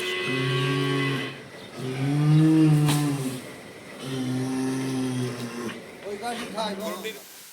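A large bull, weighing over a thousand kilograms and prepared for Qurbani on a Bangladeshi farm, gives three long, deep, loud moos close by, followed by a voice at the end.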